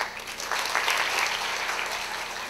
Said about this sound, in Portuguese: Muitos aplausos para mim